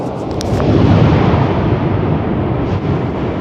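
Mount Yasur, an active volcano on Tanna Island, Vanuatu, erupts in a loud, sustained bomb-like boom that rolls on as a deep, dense rumble from within the crater, with no voices over it.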